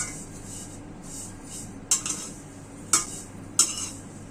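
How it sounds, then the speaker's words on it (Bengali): Vermicelli (semai) is fried in a pan for zarda under a low, continuous sizzle, with three sharp metal scrapes and clinks of a utensil stirring against the pan, close by. "আমি এভাবে করে যতটুক শ্যামাই রান্না করবো সবগুলো ভেজে নিব।"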